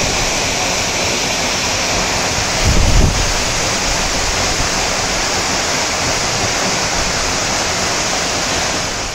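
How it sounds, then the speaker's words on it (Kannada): Waterfall at Varavi Siddeshwara Kolla near Savadatti, its water falling and flowing on into a river, makes a loud, continuous rushing roar with a brief low rumble of wind or handling near the start. "ಈ ಜಲಪಾತದ ನೀರು ಇಲ್ಲಿ ಬಿದ್ದು ಮತ್ತೆ ನದಿಗೆ ಹರಿದೋಗುತ್ತೆ"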